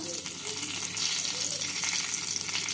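Whole spices — dried red chillies, bay leaves, white cumin, cardamom, cinnamon and cloves — sizzling in hot oil, a dense steady crackling hiss close up with no pauses.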